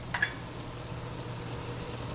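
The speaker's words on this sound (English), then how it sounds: "See? It's sizzling." Ground chicken with garlic sizzles faintly in a pan, a soft steady frying hiss with a brief clink near the start and no talking.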